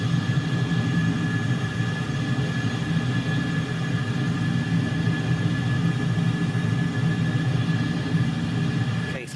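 An F-14 Tomcat's jet engines hold a loud, steady roar in Microsoft Flight Simulator, a constant broadband drone with sustained whining tones and no break in level from start to finish.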